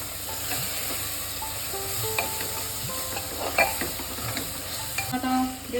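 Spice masala for mutton kosha frying and being stirred in a pan, with a steady sizzle broken by scraping spatula strokes, close and fairly loud, and no voices.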